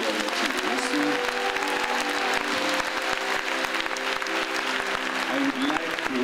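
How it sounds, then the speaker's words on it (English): A church congregation claps steadily during a worship service, sharp handclaps running throughout beneath sustained music and voices. "Clap your hands for Jesus."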